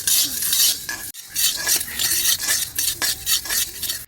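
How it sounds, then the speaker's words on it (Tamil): Chilli spices dry-roasting in a pan over a low flame, stirred with a steady rhythmic scraping and rustling, fairly loud and near, with a brief pause, no voices. "அதனால் சிம்மில் வச்சு தான் பொறுமையாக வறுக்கணும்."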